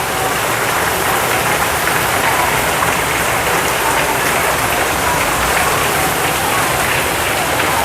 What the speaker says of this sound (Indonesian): masih hujan loh.